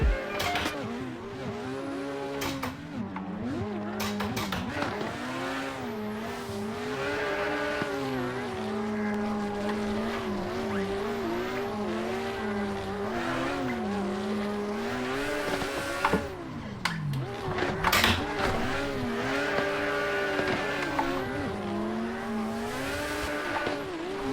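Drifting race cars in a video game make a tandem run at VDC Sturup, Layout B, with engines revving and wailing up and down while tires squeal and skid steadily throughout, loud and close, with no talk.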